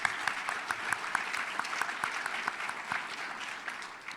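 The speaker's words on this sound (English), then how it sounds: "Let's give them a big round of applause." Applause from an audience at a community awards event, steady crisp clapping heard fairly distant and moderately quiet, with no talking over it.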